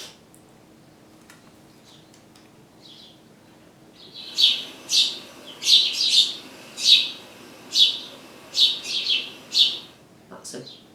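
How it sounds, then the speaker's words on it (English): After a quiet start, a bird sings a clear series of about nine sharp, high chirps in an even rhythm. The song is fairly close and heard alone. "That's a bird."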